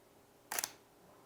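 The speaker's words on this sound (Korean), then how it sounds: "이 삐릭하고 한참 있다가 자그닥 하는 소리가 나죠" Single-lens reflex camera shutter set for a long exposure, heard as one short, crisp mechanical burst of two quick clicks close together, alone against a quiet background.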